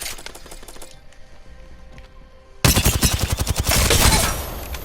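Gunfire in Apex Legends: soft, rapid shots and clicks give way to a sudden loud burst of automatic fire that rattles on for about two seconds before tapering off.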